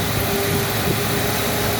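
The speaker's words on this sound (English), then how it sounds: "Idling pretty nice." A 1972 Continental Mark IV with a 460 cubic-inch V8 and new Edelbrock carburetor idles steadily, a continuous low rumble with a faint tonal hum, close and unbroken throughout.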